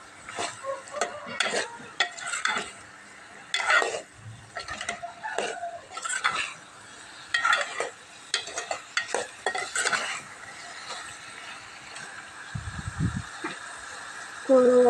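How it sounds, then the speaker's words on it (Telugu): Chilli powder being stirred into a pot of egg, potato and fish curry: repeated close scraping and clinking strokes with a soft sizzle, in an irregular rhythm, with a brief low thump near the end. "నేను కారం అయితే వేసి ఇప్పుడైతే కలుపుతున్నాను"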